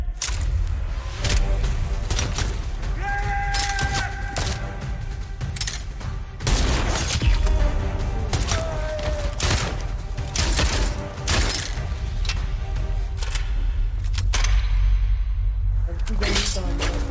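Dense gunfire blasts through a chaotic action scene from the Hindi film Jawan, with repeated loud broadband bursts and booms over a constant roar, while voices shout underneath.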